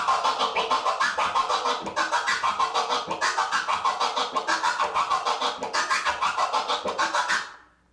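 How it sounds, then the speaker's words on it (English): A transformer scratch on a turntable, chopped rapidly into choppy, stuttering bursts, repeating in a fast rhythmic pattern with brief gaps, loud and close, then cutting off. "the transformer sounds like this"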